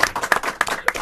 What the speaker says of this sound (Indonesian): Tepuk tangan dulu buat beliau.